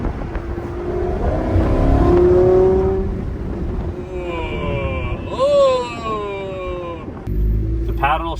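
A Lamborghini Sterrato accelerates hard, its engine rising in pitch through the revs, dropping briefly on an upshift and climbing again, loud and close throughout.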